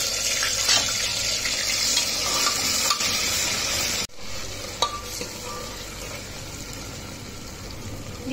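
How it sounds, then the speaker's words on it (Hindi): Ginger garlic paste frying in oil in a pan, left from frying onions for mutton korma: a loud, steady sizzle with stirring scrapes and a brief dip partway through. "और अब हम उसी ऑयल में अदरक लहसुन का पेस्ट डाल देंगे।"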